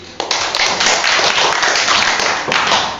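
A classroom of pupils claps their hands during an Indonesian primary school maths lesson, a loud, dense burst of clapping that starts abruptly and carries on steadily.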